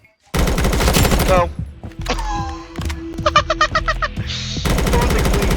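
Rapid automatic gunfire bursts in the BRM5 shooter game, loud and close, with a gap of thuds, metallic clicks and whirring effects before another long burst, and a voice speaking briefly.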